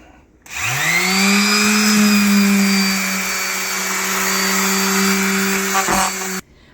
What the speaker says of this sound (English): I'm going to use the fine sandpaper, and I'm going to finish up my windowsill